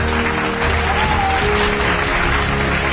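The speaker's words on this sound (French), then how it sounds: "Est-ce que tous peuvent acclamer maintenant pour le roi des rois?" A church congregation applauds and cheers loudly and steadily during a French-language baptism sermon, with continuous dense clapping throughout.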